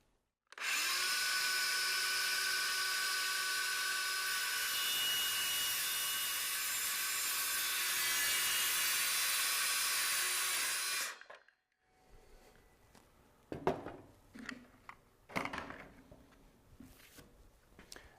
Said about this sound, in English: Now there's no aluminum in this one, so you can go a little faster, but you still want to make sure you cut nice and slow.